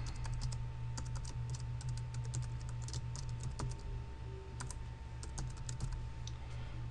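Close, steady typing on a computer keyboard, with rapid key clicks in irregular bursts over a low electrical hum and no talking.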